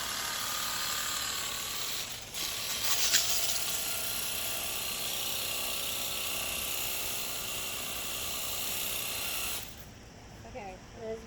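Water spraying steadily from a hose nozzle on its spray setting: a broad continuous hiss that runs for several seconds, then cuts off abruptly, followed by quiet handling noise.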